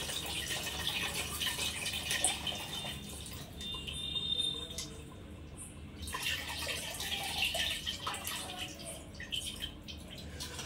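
Water running steadily from a tap while fish curry is being prepared, a continuous close wash with small splashes and dripping throughout, broken only by brief changes in the flow.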